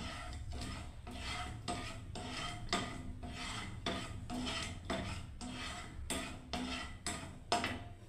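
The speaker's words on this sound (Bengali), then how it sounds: "এবার আমি ঘাঁটতে থাকবো বন্ধুরা রস করার জন্য" Spoon stirring water and sugar in a pot for rasgulla syrup, steady rhythmic scraping strokes against the metal, close and even, repeated about a dozen times with no talk.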